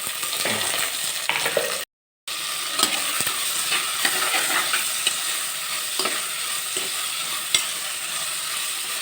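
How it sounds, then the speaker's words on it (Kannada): Onions fry with spluttering mustard seeds in hot oil for an egg masala, a steady close sizzle broken by scraping stirs and a few sharp crackles, with a brief dropout partway through. "ಈಗ ಈರುಳ್ಳಿಯನ್ನು ಚೆನ್ನಾಗಿ ಫ್ರೈ ಮಾಡ್ಕೊಳ್ಬೇಕು."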